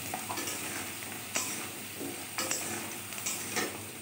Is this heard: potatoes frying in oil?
yes